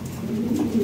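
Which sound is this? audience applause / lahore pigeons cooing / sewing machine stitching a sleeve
lahore pigeons cooing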